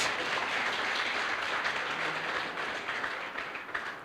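A crowd applauds continuously at a charity fundraising dinner, dense clapping that holds steady and loud throughout with no voices on top.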